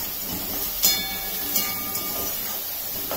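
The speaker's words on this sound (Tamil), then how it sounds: "இப்போ வெங்காயம் சீக்கிரம் வதங்கும்." Finely chopped onions sautéing in a pan for mushroom pepper masala, giving a steady close sizzling hiss with a few brief louder spits and crackles.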